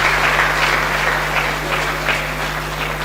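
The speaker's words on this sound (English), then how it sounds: "Please, once again, a round of applause to Mariam for that beautiful speech." An audience at a university medical laboratory science induction and oath-taking ceremony applauds steadily after a speech by Mariam, a dense, even wash of clapping over a low electrical hum, with no voices.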